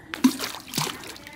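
A ball dropped into water makes a quick, close splash followed by a brief slosh and trickle, with a young voice speaking faintly around it.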